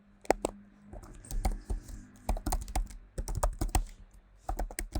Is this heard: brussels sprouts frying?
no